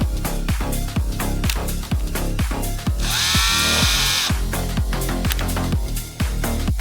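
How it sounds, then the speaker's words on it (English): A chainsaw-like motor whine rises for just over a second during a LEGO Minecraft versus Transformers battle scene, largely buried under loud, steadily pounding music beats. "those chainsaws send a message."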